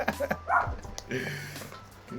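A dog gives a few short yips and barks indoors, mixed with people talking close by; the barks come in quick bursts near the start and middle.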